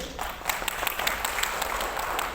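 An audience at a gold business seminar in Palu gives a short burst of applause, scattered individual claps standing out over a soft room wash.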